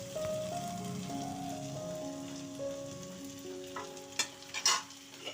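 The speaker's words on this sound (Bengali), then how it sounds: "টমেটোটা দিয়ে আমি একটু কষিয়ে নেব মশলাটা।" A spice paste with tomato frying in a pan for an egg curry with vegetables sizzles softly and steadily, with stirring scrapes near the end and faint melodic tones in the background.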